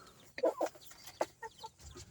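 Native chickens clucking close by, a few short bursts of clucks with brief pauses between them, no talk.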